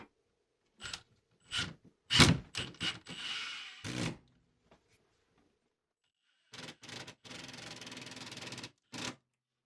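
A cordless drill or driver spins a screw through a ShotLock AR mount into a wooden wall stud, several short whirring bursts with pauses, then longer steady runs, close up.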